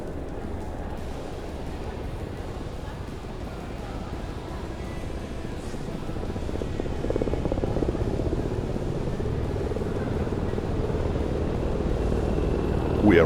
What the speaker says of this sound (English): We are waiting for the aircraft to accelerate for a half-barrel roll with a return.